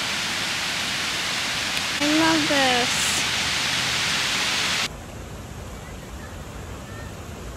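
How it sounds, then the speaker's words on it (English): A garden waterfall over a koi pond at Frederick Meijer Gardens & Sculpture Park, a loud, steady rushing roar that drops away sharply near the end; a person speaks briefly over it. "They have a waterfall back here with koi fish."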